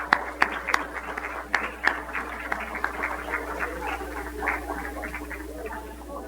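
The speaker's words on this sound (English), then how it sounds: "Please join me in giving Dr. Ali another round of applause for that fantastic presentation" An audience at a diabetes epidemiology lecture gives scattered, fairly distant applause after a presentation, with a few sharp claps early on blending into a soft, sustained patter under a steady low hum.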